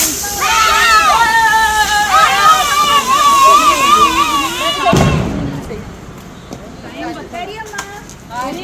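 People talk and shout loudly during a Diwali celebration, then a single firecracker bursts with a sharp bang, followed by more voices.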